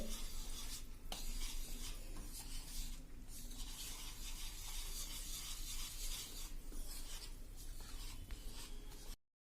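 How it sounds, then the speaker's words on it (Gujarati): Ghee is worked into gram flour for besan mesub, a quiet steady scraping and rubbing from a spoon in a pan that keeps going without pause, soft and close, with no talking. "તો અત્યારે હું અડધું ઘી નાખી દઉં છું। હવે આને આપણે આ રીતે મિક્સ કરી લેવાનું છે"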